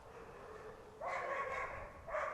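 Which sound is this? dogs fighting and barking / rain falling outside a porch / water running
dogs fighting and barking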